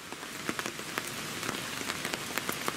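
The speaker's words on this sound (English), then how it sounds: "you can hear, it's still raining" Steady rain falls on a hard surface, a dense hiss dotted with sharper individual drops close by.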